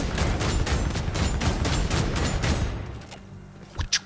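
Sienna's weapon fires in a rapid, dense volley at a training dummy in Vermintide 2, loud continuous blasts for most of the stretch before tapering off into a couple of fainter pops.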